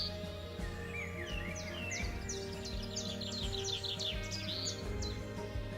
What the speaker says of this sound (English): the woodland birds that you're more likely to experience really close up